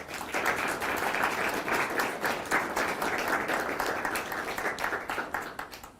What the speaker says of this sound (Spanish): les demos una cordial bienvenida con un voto de aplausos